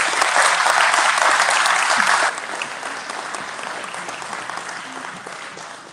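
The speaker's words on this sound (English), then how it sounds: "Let's give them a round of applause for being here." A crowd applauds city council members at a tornado relief fundraiser in Jeffersontown, the clapping loud and dense for about two seconds before dropping to a softer, steady ovation that continues to the end.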